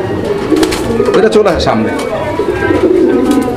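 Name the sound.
pigeons cooing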